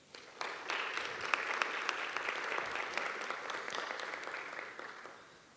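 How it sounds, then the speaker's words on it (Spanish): Audience applause at a university inter-faculty debate between psychology and medicine students, a sustained burst of many hands clapping in a hall, fairly distant and even, fading out toward the end. "para los cuales solicitamos fuerte aplauso"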